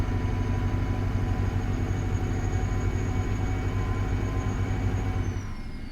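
A Freightliner Argosy truck engine in American Truck Simulator, with a steady, loud idling drone and low rumble that holds evenly for about five seconds before easing off slightly at the end.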